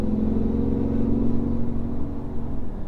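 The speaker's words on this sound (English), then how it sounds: "They did a really good job with the muffler on this car to be able to give it a deep sound, which out of a 3-cylinder" A BMW i8 three-cylinder engine with the exhaust valve open gives a deep, steady rumbling drone, heard loud and close from inside the car, swelling slightly midway and then easing off, with no talk.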